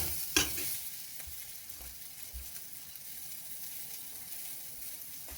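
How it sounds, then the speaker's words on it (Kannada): Tomato saaru frying in a hot pan, a faint continuous sizzle with occasional scrapes and taps of a spoon stirring, close by and without talk. "ಈಗ ಇದು ಫ್ರೈ ಆಗಿದೆ, ಇಷ್ಟು ಫ್ರೈ ಆದರೆ ಸಾಕು."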